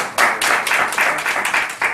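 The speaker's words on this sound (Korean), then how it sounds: "박수로" Audience at a Korean academic policy conference clapping to welcome a presenter, a brief burst of applause with distinct bursts of claps, close and steady.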